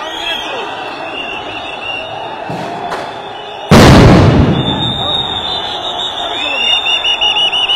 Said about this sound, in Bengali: সাউন্ড গ্রেনেড মেরে কিন্তু শিক্ষকদের ছত্রভঙ্গ করার চেষ্টা করছে পুলিশ সদস্যরা